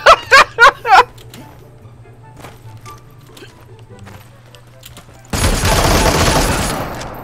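Gunfire in the video game Super People opens with four sharp bursts of shots in quick succession, followed by quieter game sounds and then a loud sustained noisy wash.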